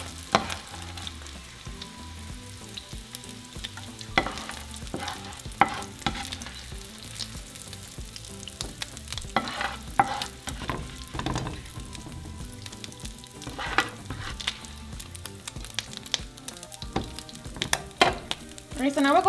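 Breakfast burrito filling a la mexicana fries in hot oil in a pan, a steady close sizzle with crackling pops and the scrape of stirring throughout.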